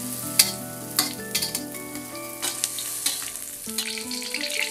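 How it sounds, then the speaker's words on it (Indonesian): Tofu sizzles in hot oil with a constant crackle, punctuated by occasional louder pops and stirring clatters, close and continuous. "Goreng tahu sampai setengah matang,"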